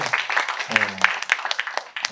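A church youth congregation at a summer retreat clapping, sparse and uneven claps from a modest group under a voice that keeps talking over them.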